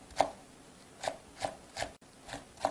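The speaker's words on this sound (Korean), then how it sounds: "청양고추 3개를 다져줄게요." A knife finely chops deseeded Cheongyang chili peppers on a board, six crisp, close thuds at an uneven, moderate pace with quiet gaps between.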